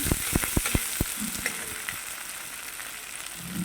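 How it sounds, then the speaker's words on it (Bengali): Onions fry in a pan for a Bengali prawn curry, cooking until reddish brown, with a steady close hiss of sizzling oil and a few sharp scraping stirs early on, no voices. "এবার পেঁয়াজটা লাল লাল করে ভেজে নেব"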